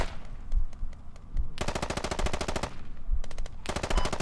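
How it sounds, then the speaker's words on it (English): Automatic gunfire in the Squad military shooter game: two long, loud rapid-fire machine-gun bursts, separated by scattered single shots and quieter distant firing. "Yeah, I can hear the firing going on."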